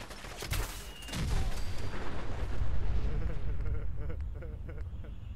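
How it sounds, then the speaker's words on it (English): A Fat Man nuke explosion in Fallout 4, a deep rolling blast with heavy low rumble that builds and sustains for several seconds before slowly fading, with crackling debris on top. "I launched a nuke at your face and you did not die"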